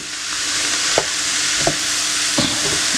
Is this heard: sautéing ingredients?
yes